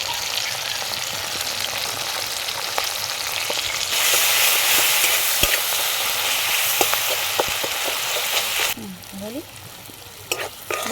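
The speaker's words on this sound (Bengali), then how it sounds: "কালো জিরে আর একটু রাঁধুনি নিয়ে নিয়েছি, ফোড়ন দিয়ে দিচ্ছি।" Black cumin and radhuni seeds with a whole tomato and a little cumin powder fry in hot oil, giving a loud continuous sizzle up close, swelling midway, with occasional stirring scrapes and clinks.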